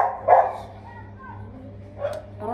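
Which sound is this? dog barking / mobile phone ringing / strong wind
dog barking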